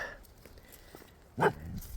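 A large, long-legged dog held in a trap by a couple of back toes during an Oklahoma trapping season gives one short, loud bark-yelp near the middle, with quieter whimpers after it.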